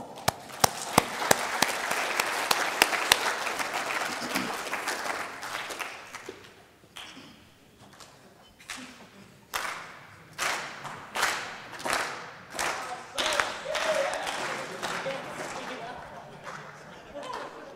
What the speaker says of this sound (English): I think it deserves a golf clap.